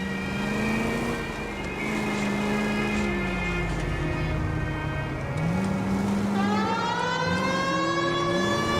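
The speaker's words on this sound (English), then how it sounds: "they heard the sirens" Police car sirens wail in the 1940s Los Angeles crime game L.A. Noire, a loud wavering tone that rises and falls over a racing car engine, with a second, higher siren cutting in partway through.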